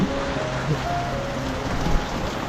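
Steady heavy rain pours down in a dense, unbroken hiss with no pauses, loud and close throughout.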